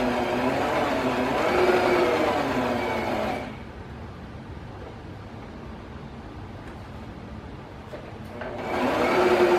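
Close by, a sewing machine stitches a quarter-inch seam on a fabric scrap table runner with a steady whirring hum, stopping for a few seconds in the middle before starting up again.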